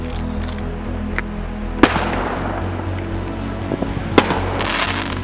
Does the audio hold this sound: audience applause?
no